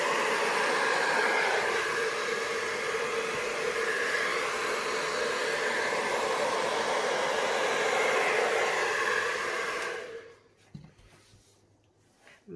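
A hair dryer blows steadily across poured blue and turquoise acrylic paint in a Dutch pour, a loud continuous rushing roar for about ten seconds before it cuts off into quiet.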